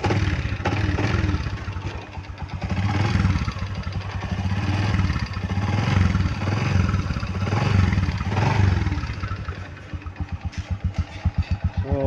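An overhauled Honda XRM 125 motorcycle engine runs after a kick start, a close clattering single-cylinder chug that rises and falls in surges, then settles into a rapid even idle pulse near the end.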